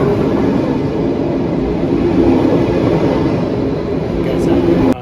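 A train station platform in Bern, Switzerland carries a steady, loud rail rumble with indistinct background voices throughout.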